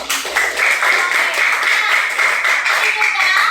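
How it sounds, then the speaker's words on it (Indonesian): A class of students claps together after finishing a school project, a dense, steady patter of many hands filling the room for several seconds, with a few voices mixed faintly underneath. "Beri tepuk tangan untuk kita semua."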